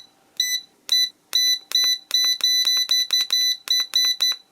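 An Eta Siesta breadmaker gives a run of loud, shrill electronic beeps, about a dozen in irregular bursts, the later ones coming closer together, with nothing else heard.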